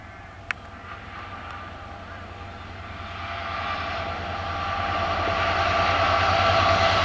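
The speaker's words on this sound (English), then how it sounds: "66060 is seen passing Birkby on the East Coast Main Line, heading south towards Doncaster with this empty rail train" Class 66 locomotive 66060 on the East Coast Main Line at Birkby with an empty rail train, a low diesel rumble and broad rushing noise swelling steadily as it draws nearer, one sharp click early on.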